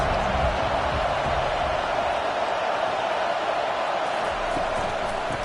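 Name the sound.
football stadium crowd noise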